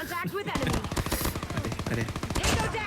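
Rapid automatic gunfire from PPSh-41 and MX9 submachine guns in the Call of Duty Mobile video game, sustained dense bursts of shots close and loud with a voice talking over them.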